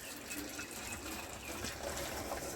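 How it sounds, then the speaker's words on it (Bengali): Water from boiled lentils for dal drains through a strainer in a continuous soft trickle and splash, faint and close, with no talking. "ডালটা আমি ছেঁকে নেব।"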